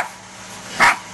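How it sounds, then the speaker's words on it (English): A dog gives a single sharp bark near the end, fairly close and clear, over a low steady background hum during a home grappling match. "Even the dogs are going crazy."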